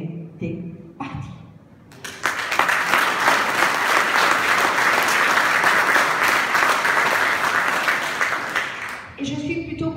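An audience breaks into loud, sustained applause for a woman's political speech, the dense clapping lasting about seven seconds between stretches of her talking.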